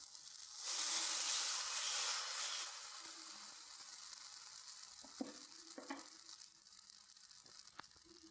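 Wheat appam batter frying in a hot pan, a broad sizzle swelling loudly at first and then settling into a steady hiss, with a few small clicks and taps near the end and no voices.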